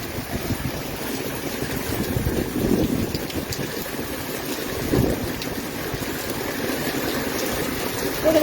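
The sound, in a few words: storm rainwater gushing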